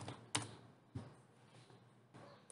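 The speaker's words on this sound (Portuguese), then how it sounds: "Vou digitar aqui a senha." Keys pressed on a computer keyboard while entering a password, a few sparse, close, quiet clicks separated by short pauses.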